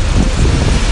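Strong wind roars at a cold mountain viewpoint, buffeting the microphone with dense, steady rumbling gusts that fill the whole second at close, loud level.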